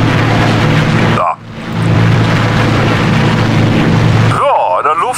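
Aircraft engine in the X-Plane 11 flight simulator, a steady loud broadband drone that briefly drops out near the start, then resumes and runs continuously, with a short rising whine at the end.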